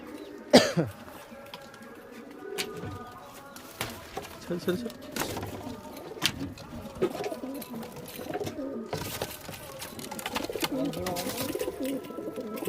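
Kaldhuma pigeons in a loft of about fifteen pairs coo softly in scattered low bursts, with wing flaps and a cough, while people talk nearby.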